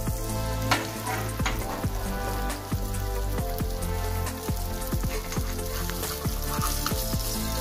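Spinach uttapam cooks on a pan over a medium flame, giving a continuous soft sizzle and crackle with scattered small pops and spatters, moderately quiet and without talk.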